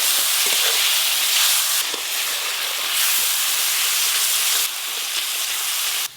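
Water poured onto hot frying masala with tomato and ground spices bursts into a loud, steady hiss of steam and sizzle up close, surging and easing slightly for several seconds before cutting off abruptly.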